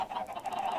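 A Minecraft chicken makes a short run of clucking calls, loud and close, with no talk over it.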